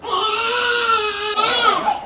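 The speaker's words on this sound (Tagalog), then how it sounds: "ayoko talagang naririnig yung iyak ni baby" An infant wails in a hospital room, a loud continuous close cry with rising and falling pitch that briefly catches and resumes.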